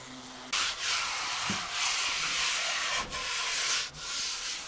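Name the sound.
sanding a wooden board with a cordless sander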